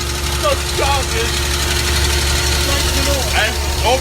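A 5.5 ton fire engine's motor rumbles steadily at idle with a deep, vibrating drone, close and loud, while someone talks over it.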